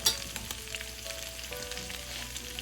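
Chicken mince frying in a pan, a steady close sizzle with faint stirring scrapes and small pops, no voices.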